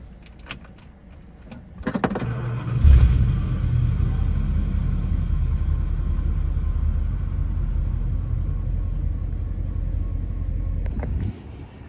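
A 1966 Chrysler Town & Country classic car on a road trip along Route 66: a door clunks and jingles, then the engine rumbles to life and settles into a steady, loud, low drone.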